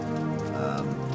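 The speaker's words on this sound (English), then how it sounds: "There's a big puddle of water outside from all the water pouring off the building." Heavy rain drums steadily on surfaces as water pours off a building outside a tent, a dense, continuous wash of droplets close by.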